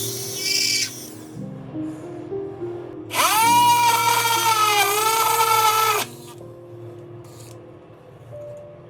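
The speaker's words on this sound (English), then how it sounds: "I take care of the main drilling part inside a water tub" A power drill drills stone inside a water tub, whining in short runs, with a long loud grinding burst in the middle, close up, revving up and slowing down.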